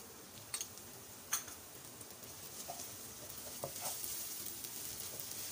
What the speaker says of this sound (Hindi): तकरीबन 2 मिनट तक हम प्याज को फ्राई करेंगे।